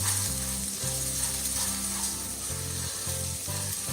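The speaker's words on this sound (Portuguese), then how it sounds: "E aqui a gente vai fritando esse arroz até que ele fique totalmente" Rice fries in fat in a pan with a constant loud sizzle, overlaid by a rhythmic grinding, ratcheting clatter that repeats in short bursts.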